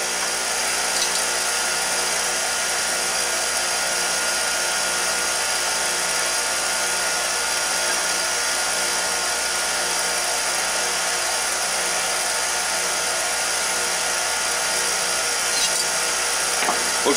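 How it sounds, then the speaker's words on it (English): A power tool grinds lawnmower blades in a home shop, giving a steady, loud, high whine that holds unbroken throughout. "And that's how I grind my lawnmower blades."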